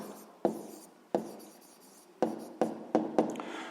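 Pen or chalk strokes writing out a math solution, a series of about six sharp taps and scratches spaced irregularly, close and fairly quiet.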